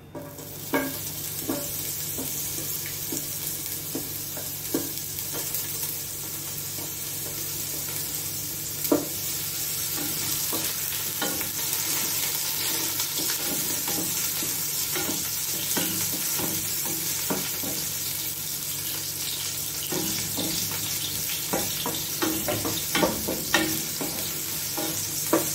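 Ginger sizzles steadily in a hot frying pan for a long stretch, with a constant fry hiss punctuated by scattered scrapes and clinks of stirring.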